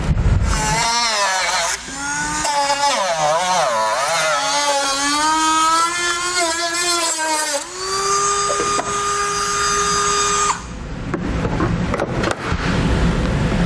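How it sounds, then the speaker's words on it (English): A Dremel rotary tool cuts thin plastic during a Roadmaster crossbar-style base plate install, a loud high-pitched motor whine that rises and wavers as it bites, briefly dips, then settles into a steady pitch before stopping. "Now I'm going to use a Dremel tool. However, this plastic is relatively thin, so a pair of snips would probably work as well too."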